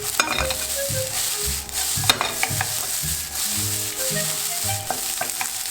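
Japanese fried rice with egg being stirred in a hot pan, steady close sizzling punctuated by repeated spatula scrapes and clacks against the pan in an uneven rhythm, with a low hum underneath.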